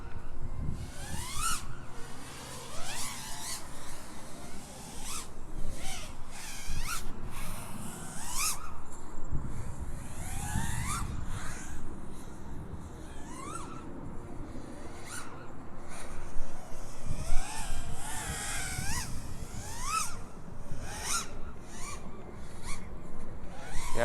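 FPV racing drone fitted with Black Bird propellers flown hard through prop wash, its motors whining and surging in rapid pitch sweeps with frequent throttle punches, loud and continuous for the whole stretch.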